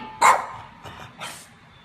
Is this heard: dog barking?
yes